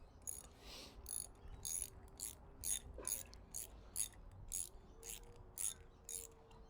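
A nut being unscrewed from a mangled flush head sleeve bolt, giving a steady series of sharp ratcheting clicks in a regular rhythm, close and fairly quiet, with no talking.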